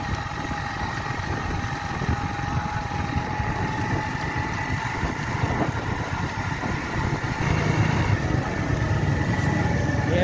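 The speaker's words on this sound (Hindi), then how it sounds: "मैं मोटरसाइकिल समंदर के किनारे पर ले आया हूँ" Motorcycle engine running steadily at a seaside beach in Karachi, a continuous mid-pitched drone with constant vibration and wind, no speech.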